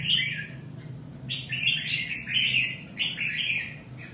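A songbird chirps in repeated bright bursts of tweets, close and fairly loud, over a low steady background hum with no talking.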